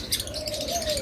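Pet birds such as lovebirds, cockatiels and budgerigars call and chirp steadily at close range, a thin whistling note running through the whole stretch with bright chatter above it and no voices.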